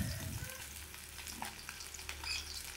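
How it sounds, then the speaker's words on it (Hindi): Fish frying in hot oil in a pan, a steady close sizzle and bubbling crackle throughout, quiet and continuous with no talking. "फिश को अच्छी तरह फ्राई करूँगी"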